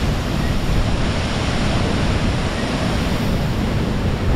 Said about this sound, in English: Right under the waterfall now,